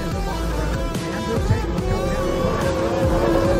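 H1 Unlimited hydroplane racing boats roar during the final heat at Guntersville Hydrofest, a steady, loud engine drone with a sustained whine running throughout, heard under a race commentator's voice.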